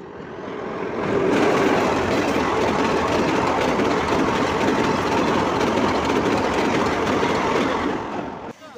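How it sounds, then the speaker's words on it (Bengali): A train rumbles close by on a rail bridge, its roar swelling within the first second into a loud, sustained rolling clatter of wheels that stays steady and then briefly eases at the very end. "এদিকে এখন ট্রেন আসছে, দেখো।"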